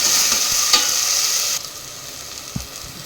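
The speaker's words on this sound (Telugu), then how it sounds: "టమోటా ఆనియన్స్ మంచిగా వేగాలన్నమాట" Onions and tomatoes frying in a pan for a chicken dish, a loud, steady sizzle that suddenly drops to a quieter hiss midway, with a couple of soft stirring knocks.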